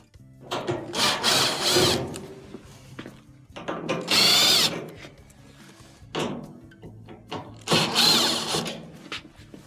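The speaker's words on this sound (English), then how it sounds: "We do have 4 Phillips screws that will have to be removed." A power screwdriver whirs in short bursts while backing Phillips screws out of a clothes dryer cabinet during a motor repair, four separate close runs with quiet pauses between.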